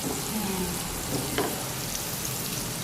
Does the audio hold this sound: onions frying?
yes